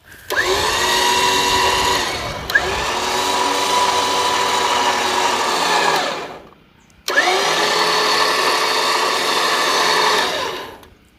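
A Warn winch pulling a load onto a trailer, its electric motor whining loudly in three steady pulls separated by brief stops, close by, with no talking.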